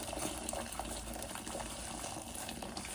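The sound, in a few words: boiled water from a kettle being poured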